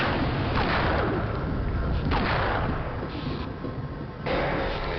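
Sustained gunfire against a boss in Half-Life, dense rapid shots and booms filling the whole stretch, loud and continuous with a voice faintly under it.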